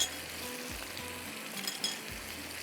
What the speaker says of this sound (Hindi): ये देखें पहले मछली के पीसेस इस तरह से, ये थोड़ा पकेगा